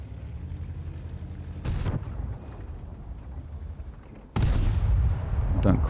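A tank main gun in World of Tanks, on an Object 140, fires two heavy booming shots about two and a half seconds apart, each a loud broadband blast with a rumbling tail over a low engine drone.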